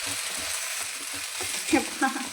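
Onions sizzle and fry in a pan for onion dosa, a steady crackling hiss close up with occasional stirring scrapes.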